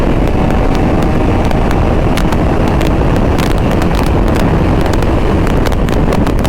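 Steady roar of wind buffeting a rider on a KTM Duke 390 Gen 3 motorcycle at highway speed, with a dense, continuous rush and engine drone throughout, loud and unbroken.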